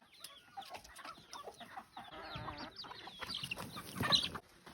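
Hens clucking in a farm henhouse, a lively stream of close, overlapping clucks and short squawks from several birds, quiet but continuous, with no voices.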